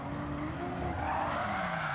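Braking car in a racing video game with tires skidding and squealing, a steady continuous screech over engine noise lasting the whole moment, loud and close, no talking.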